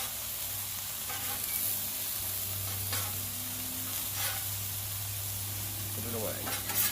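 Cheeseburger patties sizzle and fry in a pan after being flipped, a steady soft crackle with scattered scraping clicks of a spatula, close and fairly quiet, with no talking.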